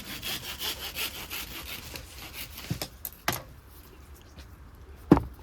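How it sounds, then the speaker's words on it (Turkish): Cutting through a yucca plant stem in a garden, a rhythmic rasping saw-like scrape for a few seconds, then a few sharp isolated snaps and cracks, close and moderately loud. "Biraz yapraklarını temizledikten sonra bunu bir kesim yapacağız arkadaşlar."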